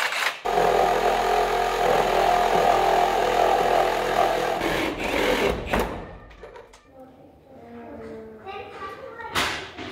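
A power saw whirs steadily for several seconds cutting wood for loft joists in a pole barn, then cuts off with thumps and clatter, followed by quieter voices talking and a brief final burst.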